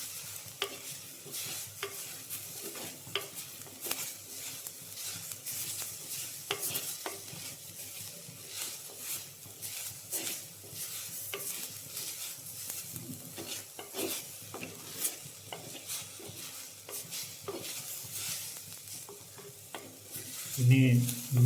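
Steady stirring and gentle sizzling as food fries in ghee in a clay pot, with soft scraping strokes against the pot and a few louder clinks near the end.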